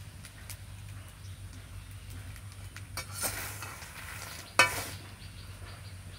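Peanuts roasting in hot salt in a pan give off sparse, faint crackles and pops over a low background hiss, with two sharper bursts near the end.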